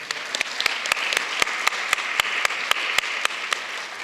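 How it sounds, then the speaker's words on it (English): Audience at a city-wide art show opening ceremony gives sustained applause for the parents, a steady wash of many hands with a few sharp nearby claps standing out, no talking. "let's give our parents a huge round of applause."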